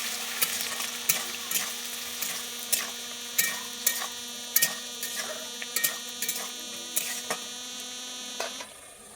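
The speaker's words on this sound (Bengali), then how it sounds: "গাজরটা দিয়ে আমি একটু ভেজে নিচ্ছি" Diced carrots fry in a pan under a low electrical hum, while a spoon scrapes and taps in a regular rhythm, each stroke stirring up a brief sizzle. The sound is close, with no talk.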